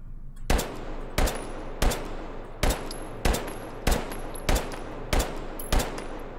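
Rapid gunshots ring out in a steady cadence in the VR shooter H3VR, about nine sharp, loud reports spaced roughly two thirds of a second apart, each followed by a brief ringing tail.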